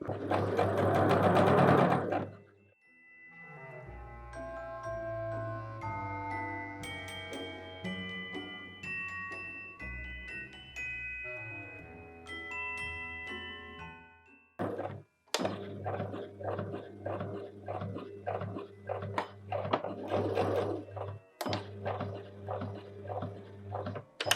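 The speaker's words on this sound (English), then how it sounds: "The first thing I need to do is sew along this short edge all the way along the long edge" A sewing machine stitching along the edge of fabric for a dress, its close whirring motor running in long steady bursts with brief pauses and start-stop surges, loud and unaccompanied by talk.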